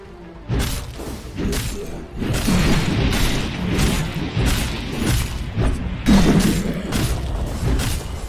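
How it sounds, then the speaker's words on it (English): Heavy booms and thuds roll out from a Dota 2 pro-league match as the Dire top tower comes under attack and falls, a loud, dense stretch of battle impacts with crashing and whooshing effects layered throughout. "Dire's top tower is under attack."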